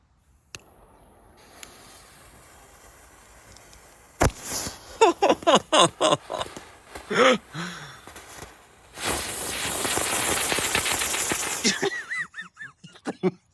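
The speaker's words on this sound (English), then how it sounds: "we're going to try these Panda Acrobat fireworks" Panda Acrobat novelty fireworks, the newer version, set off outdoors: a sharp bang, then a rapid string of loud crackling pops, followed by a sustained roaring hiss as the firework spins, ending in a few scattered pops.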